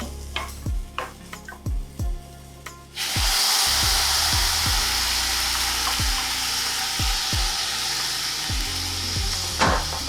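Beans tipped into a hot pan with a little butter hit with a sudden, loud, steady sizzle that fills the rest of the clip, with sharp spoon scrapes and clinks in a loose rhythm before and throughout.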